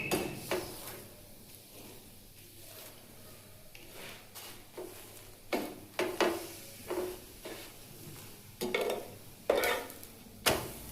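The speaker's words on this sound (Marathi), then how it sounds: "आलटून पलटून दोन्हीकडून बारीक गॅसवर मस्त असा खरपूस पराठा भाजून घेऊया" A paratha roasts with oil on a griddle over low heat, with a spatula clattering and scraping at irregular moments over a soft, low sizzle.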